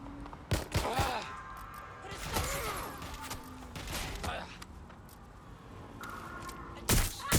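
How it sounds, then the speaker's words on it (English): Gunfire in the video game Watch Dogs Legion, a few loud sharp bursts spaced through a busy mix of game sounds, with voices talking throughout. "I'm getting shot at here."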